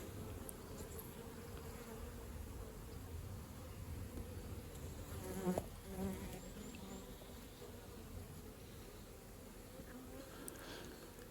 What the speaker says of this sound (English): So there's obviously a few bees out flying